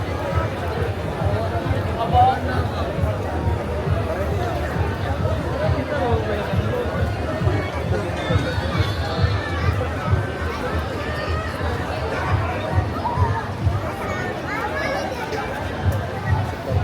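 A dense outdoor crowd at the Sinulog Festival chatters continuously, a loud overlapping babble of many voices with occasional nearer speech throughout.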